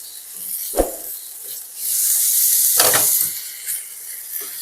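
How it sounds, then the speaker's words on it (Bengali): Carrots, potatoes, beans and papaya sizzle and hiss in a pan for chicken stew, with a steady spitting fry that swells into a louder burst of steam midway, punctuated by a couple of clanks and no talking. "গাজর, আলু আর পেঁপেগুলো দিয়ে দিলাম। এরপর এগুলোকে একটুখানি আমি ভেজে নেব।"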